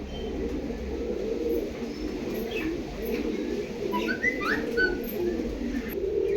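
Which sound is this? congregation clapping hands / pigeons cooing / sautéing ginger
pigeons cooing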